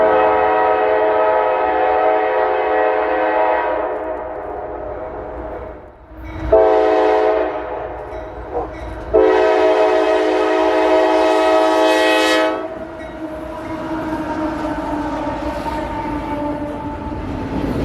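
A CSX freight train passes close by on the main track, its air horn blaring in long, loud sustained blasts with short gaps while the rumble of the rail cars continues underneath.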